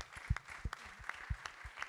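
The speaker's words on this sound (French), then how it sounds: "on peut l'applaudir" At a political convention opening speech, a hall audience gives scattered, fairly faint applause with a few sharper individual claps and low thumps standing out over the sparse clapping.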